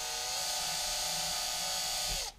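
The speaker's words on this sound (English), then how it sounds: "We'll just start working, drilling that out." A drill bores out the lead plug in a carburetor from a Caterpillar D2/D4 and John Deere pony motor, a steady high-pitched whine held close and loud for about two seconds before it winds down and stops.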